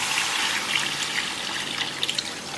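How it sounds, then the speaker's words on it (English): Water pours steadily into a pot of Padang-style chicken turmeric-coconut curry, a continuous hissing splash with a few small glugs near the end. "And I may add some water on top of that."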